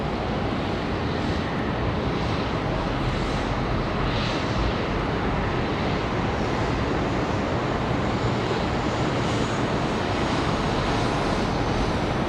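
An Etihad airliner taxis at Charlotte Douglas airport, its engines a loud, steady broadband roar with a wind-like rush that holds constant throughout and has no speech over it.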